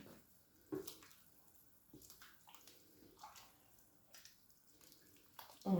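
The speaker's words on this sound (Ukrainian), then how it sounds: "Я заливаю гарячою водою, щоб скоріше закипіло." Hot water is poured from a kettle into a pot for a diet protein soup, a soft, continuous watery splashing with a few louder clunks, heard faintly and without talk.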